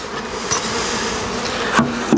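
A swarm of honeybees flying around a small hive box placed in shade, a dense continuous buzzing hum close by with a few brief knocks, no talk.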